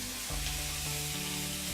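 Marinated chicken pieces laid skin side down into hot oil in a pan give a steady, loud sizzle that hisses on throughout with no talk over it.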